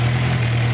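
A 2009 Suzuki Gixxer 750 motorcycle with stock exhaust runs with a steady, low engine drone and a strong hum, close and unbroken, with no talk.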